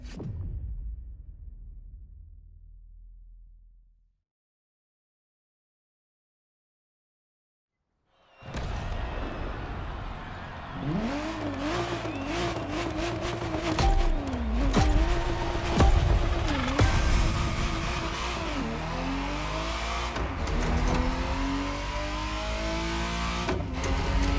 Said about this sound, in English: The Ferrari Testarossa was quite the celebrity in her time.